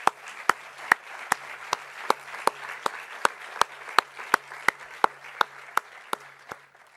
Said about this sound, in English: I would just like to ask for a round of applause for all the amazing organizers